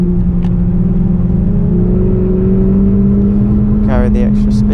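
A Renault Clio Sport on a wet Oulton Park circuit drones loudly from onboard with a steady engine tone that rises slightly after a downshift, with a burst of higher whine near the end.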